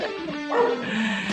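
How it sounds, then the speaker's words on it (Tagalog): A neighbor's dog gives a short, close bark with a yip and whine, heard alone along a quiet roadside during a bike ride in Tanza, Cavite. "So, kahol na naman."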